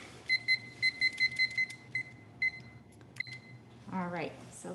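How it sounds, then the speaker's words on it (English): A kitchen timer beeps in quick repeated high electronic tones as its buttons are pressed to set it, a run of about eight bright beeps followed by a few scattered ones, close by, before someone begins talking. "so I'm gonna put on my timer because I tend to forget"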